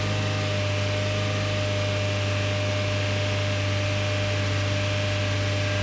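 A Chevrolet Cruze 1.8L engine with a lean condition, held at a raised idle rather than sharply revved, drones steadily and evenly with a constant low hum and broad mechanical noise throughout.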